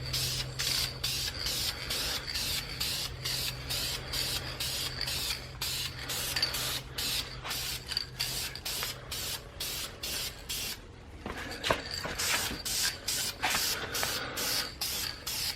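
Brake calipers being spray painted from a rattle can: rapid repeated short hissing bursts in a steady rhythm, a brief pause, then more bursts, fairly quiet and close.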